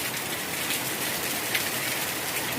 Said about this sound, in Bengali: কি সুন্দর বৃষ্টি পড়ছে।